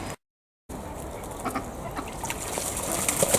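Ducks at a pond inside a suburban backyard duck run, with scattered quacks and splashy dabbling over a steady outdoor background after a brief silent gap at the start.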